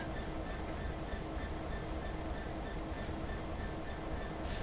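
A GWR-liveried aggregate freight train in Train Sim World rolls off after its automatic brakes are released, a steady rumbling rail drone with faint wheel and wagon noise throughout, no talk.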